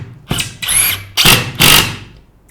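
A screwdriver drives a 4x25 screw home to finish tightening it during cabinet assembly, giving several short, close whirring bursts with brief pauses between them.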